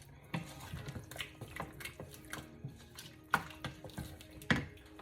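A spoon stirring salt, pepper and seasonings into a chicken pie filling in a pot, giving soft repeated clinks and wet squishing scrapes at a steady pace, close and quiet.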